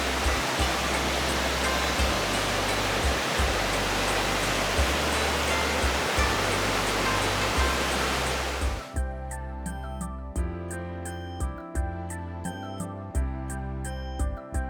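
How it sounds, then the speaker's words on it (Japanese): Steady rushing river water flows continuously outside an open window, a dense full hiss, with a lighter rippling texture and faint clinks in the second half. "窓を開けると心地よい川の音が聞こえます。"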